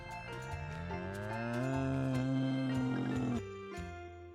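A bull lets out a single long, deep moo that swells and holds steady before breaking off. It is loud and close, with no other sounds around it.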